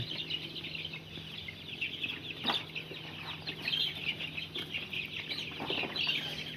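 Chickens cluck and squawk in a busy, continuous chorus, with occasional sharper calls and rustling over a low steady hum.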